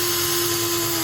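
A power drill drives a screw into a wooden shelf, giving a steady, loud, continuous whine that holds one even pitch for about a second with no talking.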